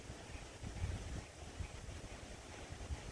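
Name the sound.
wind blowing over water while fishing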